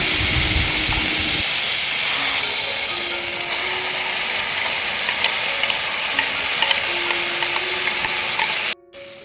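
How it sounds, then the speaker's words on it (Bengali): Loud, steady sizzling of a spice paste frying over medium flame in a pan for chicken curry, with a faint hum underneath, cutting off abruptly near the end. "এখন আমি মশলাটাকে ভালো করে কষিয়ে নেব"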